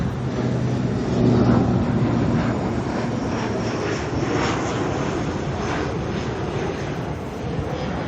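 An ATR turboprop airliner arriving from Palmerston North at Auckland Airport gives a steady, loud engine roar that swells slightly early on and holds without a break for several seconds, with no voices.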